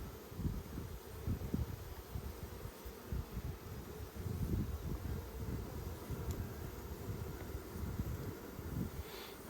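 Honey bees hum and buzz around an open beehive during an inspection, a low steady drone close by with soft rustling and faint wind, without talk.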